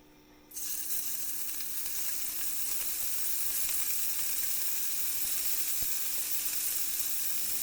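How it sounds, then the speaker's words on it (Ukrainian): After a brief quiet moment, four tablespoons of oil poured into a preheated frying pan burst into a loud, steady sizzle that crackles and hisses continuously. "В розігріту сковороду наливаємо олію 4 столових ложки."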